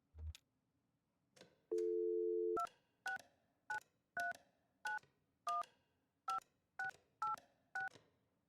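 Telephone keypad tones dial in the Kentucky Route Zero game: a short low beep, a longer steady tone, then a quick run of about ten clean two-note button beeps in an uneven rhythm.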